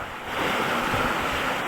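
Big waves surge at a shore in strong typhoon wind, a loud, close, steady roaring wash of surf with wind buffeting the microphone.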